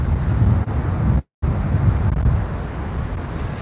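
Strong wind buffets the microphone on a beach at Can Pastilla in Majorca, a loud continuous roar with surf-like rumble and one abrupt brief dropout.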